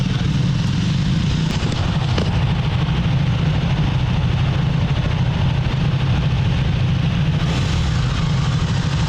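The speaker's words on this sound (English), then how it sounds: "It's got a great exhaust tone." A Triumph Daytona 660 motorcycle engine and exhaust hold a steady, loud low drone throughout, close by, with no voices over it.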